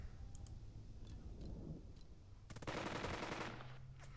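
Gunfire in the Burden of Command tactical war game: scattered faint shots, then a sharp rapid burst of machine-gun fire, all quiet under low background noise.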